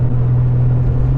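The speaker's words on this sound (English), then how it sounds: "this is what the car sounds like now with the Max on it" Exhaust of a 3.7-litre V6 Mustang fitted with a Mac Flo Path pipe, a steady deep rumbling idle heard close up, heavy in the low end, alone and without talk.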